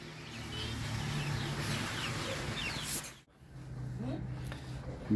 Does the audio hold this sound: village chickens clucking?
yes